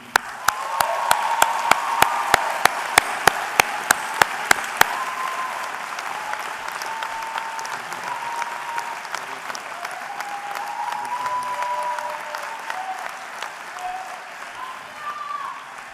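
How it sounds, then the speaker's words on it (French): A crowd applauds steadily at full volume at a medical graduation award ceremony, the clapping thinning slightly toward the end, with a few sharper claps standing out near the start. "Je vous propose de l'applaudir."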